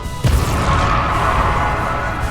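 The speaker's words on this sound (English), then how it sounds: "that explosion was enough to just kill Umu" An explosion goes off during a video game boss fight in the Final Pantheon, a sharp, loud boom followed by a heavy, sustained rumbling roar.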